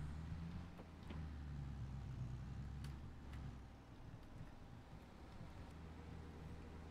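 A vehicle pulling a forage wagon drives along in Farming Simulator 22, giving a steady low engine drone with a few faint clicks and no talking.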